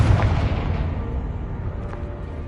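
A Confringo fire spell bursts in Hogwarts Legacy, a loud low boom that rumbles and slowly fades over a couple of seconds, heard alone.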